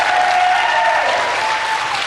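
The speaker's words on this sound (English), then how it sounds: "I'm loving that cheer." Studio audience at a 2003 television chat show breaking into loud, sustained clapping and cheering, a dense wash of applause filling the whole moment without talk.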